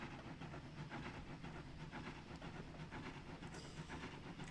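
A steam locomotive running on the SAR Petersborough route in Trainz Simulator 3 during a Christmas scenario, giving a continuous rumbling roar with hissing steam and faint rhythmic clatter that holds steady throughout.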